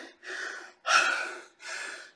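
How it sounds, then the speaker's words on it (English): A man breathes heavily after a deadlift set: three loud, close, rasping breaths in quick succession, with short pauses between them and no speech. "Breathing like a maniac here"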